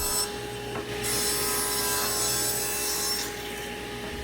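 Sawing through 3/4 inch plywood scrap, cutting the base piece for a router tenoning jig; a steady, close continuous cut with a sustained bright rasp that swells and eases over a few seconds, no talk.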